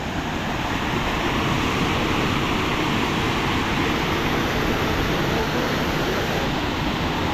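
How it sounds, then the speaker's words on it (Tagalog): Gararan Falls, a tall waterfall hidden in forest at Tagkawayan, pours in a steady, dense rushing roar that stays constant and close with no voices. "Gararan falls."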